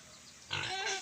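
A piglet in a pen gives a sudden, close squeal, high and strained, after a moment of quiet.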